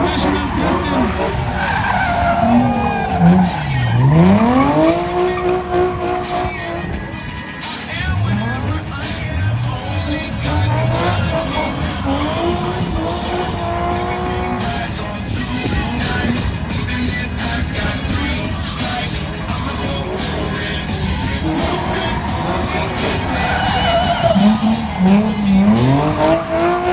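Drift car at a car show sliding with long screeching tire squeals and revving engine swoops, repeated bursts of skidding over a loud continuous roar, with voices of people in the crowd mixed in.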